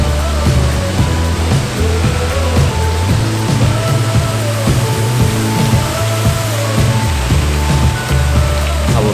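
Steady rushing water from a theme park waterfall decorated with floating jack-o'-lanterns at a Halloween event, a loud continuous wash with a low rhythmic thumping underneath, no voices.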